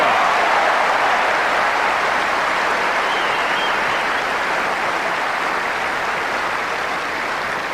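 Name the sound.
Wimbledon crowd applauding and cheering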